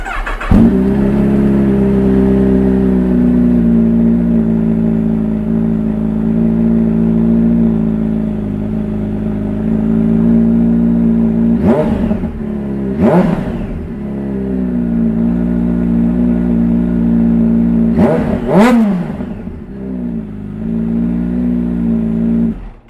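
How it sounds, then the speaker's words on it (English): A Kawasaki Ninja H2 SX SE with a Scorpion slip-on exhaust, DB killer baffle fitted, idles with a loud steady engine drone, broken by two pairs of sharp throttle blips, all close by. "Do a little sound clip with the DB killer still in it."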